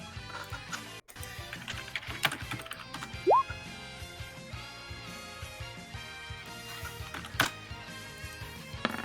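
Keyboard typing on a computer, a run of light irregular key clicks heard under and among louder mixed background sounds, fairly faint and uneven in rhythm.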